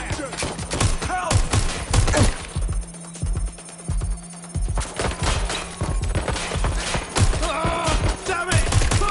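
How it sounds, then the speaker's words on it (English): Dense, rapid incoming gunfire crackles through a chaotic game firefight, bursts and single shots overlapping close and loud with a steady hum beneath and brief shouted voices. "I'm taking fire."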